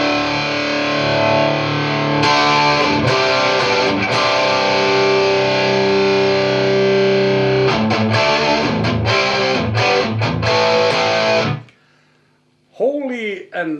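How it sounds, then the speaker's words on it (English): Electric guitar played with heavy distortion through a Marshall JCM 2000 amplifier, loud sustained chords and riffs for about eleven seconds, then a brief pause and a few quick sliding notes. "the same Marshall I play now for the distorted sound"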